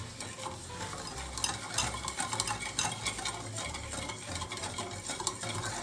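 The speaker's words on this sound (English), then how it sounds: "And we'll give it a good mix to form a homogeneous mixture." A spoon stirs eggless whole wheat rasmalai cake batter in a bowl, with continuous wet scraping and clinking strokes in an even rhythm, close and fairly loud, and no one speaking.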